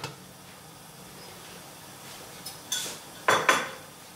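A lid is set onto a metal cooking pot with a couple of sharp clanks near the end, after a quiet stretch of faint kitchen noise.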